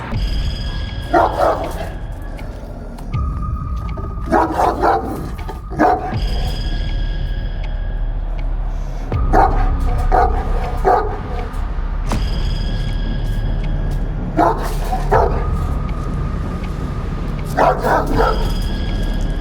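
An aggressive shepherd dog, kept on a chain, barks loudly and close in repeated bursts of two or three barks over a steady background rumble, with brief whimpers between.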